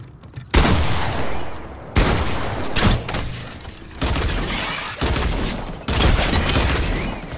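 Bursts of loud gunfire in Fortnite, several sharp volleys of shots separated by short pauses, close and dense with a crackling, rattling texture.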